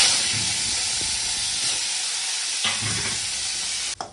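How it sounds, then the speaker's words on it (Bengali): Prawns fry lightly with salt in a hot pan, a steady loud hiss and sizzle with occasional stirring scrapes and a sharp clank at the end, no voices. "এই লবণটা দিয়ে হালকা করে ভেজে নেব।"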